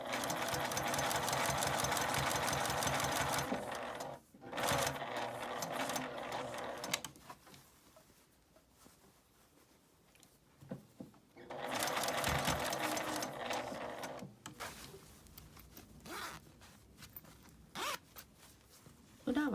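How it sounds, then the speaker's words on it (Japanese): Sewing machine stitching a zipper pocket onto a tote bag, running in loud bursts with rapid mechanical needle clatter, pausing and restarting, with quieter handling noises in the gaps. "ファスナーを閉めて続けて縫います。"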